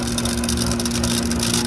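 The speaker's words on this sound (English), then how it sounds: "you can kind of just hear it there, that rattling and trying to start" A York heat pump compressor rattles as it struggles to start, a loud steady hum with a fast, uneven rattling buzz over it and no voices.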